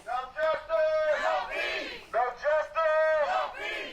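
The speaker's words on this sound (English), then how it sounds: "You can hear the reactions here from the Black Lives Matter organization and people here who were protesting out at the Circle K that people are being released" Black Lives Matter protesters outside the Homewood Police Department shout and cheer loudly as arrested people are released, with several overlapping voices rising in bursts across the crowd.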